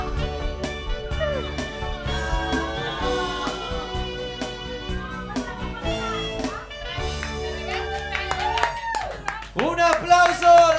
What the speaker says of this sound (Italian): applauso a lei, Valentina, la sposa di Mirko, direttamente da Milano